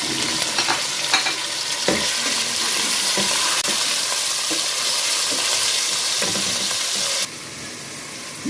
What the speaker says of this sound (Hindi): जब तक हमारा कीमा थोड़ा सा फ्राई हो रहा है